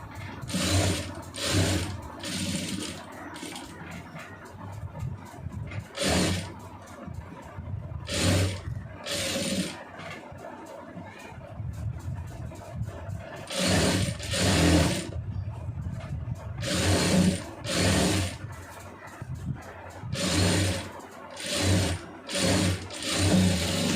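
Sewing machine stitching a star-shaped neckline on a lined blouse, running in repeated bursts of rapid mechanical clatter separated by short pauses, close and clear with no talking.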